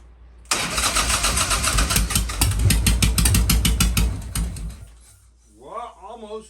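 An old Harley-Davidson Shovelhead motorcycle engine cranks loudly with a rapid ratcheting churn for about four seconds, then fails to catch and falls quiet, leaving a brief mechanical whine at the end.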